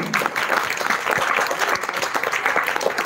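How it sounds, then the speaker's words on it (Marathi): An audience applauds a girls' performance at a cultural arts show, dense and sustained clapping from many hands at an even level, with no speech over it. "सर जोरदार टाळ्या होऊन जात्या मुलींसाठी"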